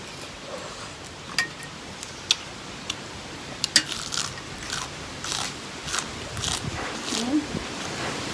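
Crisp, irregular crunching bites of sweet, crunchy food from a spicy Thai seafood papaya salad, close up, over a faint hissy background and a low murmur.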